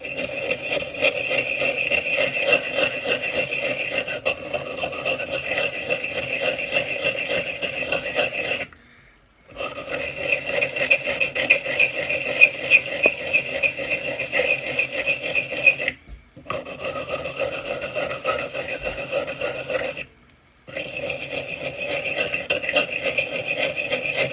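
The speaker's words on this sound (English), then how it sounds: "So let's go back to the sandpaper." X-Acto hobby knife blade scraped back and forth on sandpaper, a steady dry rasping rub in long continuous strokes, broken by three short pauses.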